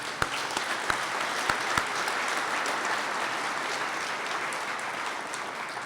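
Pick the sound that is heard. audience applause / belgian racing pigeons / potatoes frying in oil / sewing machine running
audience applause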